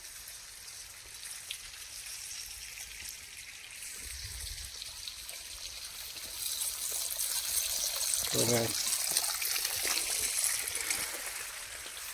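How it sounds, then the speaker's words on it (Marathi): Water runs and trickles steadily through a farm irrigation channel, growing stronger partway through, with a short spoken phrase and some handling noise. "इथून पाणी चालू आहे कडकून चालू आहे"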